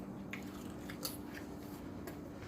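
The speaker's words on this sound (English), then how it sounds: "But you could hear the crunch, and boy, they're good." Crispy, puffy, hollow fried snack crunches under a few quick, close bites, each a short dry crackle that stands out over otherwise quiet surroundings.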